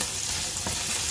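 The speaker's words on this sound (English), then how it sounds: "my pancetta is getting brown and very, very crispy" Pancetta frying in a pan until brown and crispy, a steady close sizzle with a faint stir or clink partway through, no talking.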